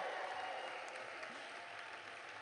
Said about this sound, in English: I want that clapping to increase here